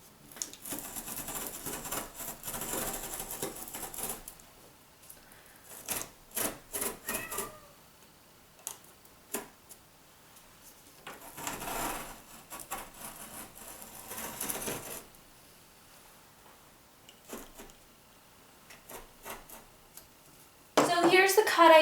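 A craft knife slices through cardboard for a homemade woven rabbit mat, soft scraping cuts coming in short bursts separated by quiet pauses, close and faint.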